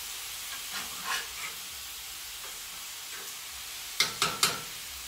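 Salmon cooks in a pan with butter under a soft, steady sizzle, with a few faint stirring sounds early on, then three sharp bursts of crackling spatter near the end.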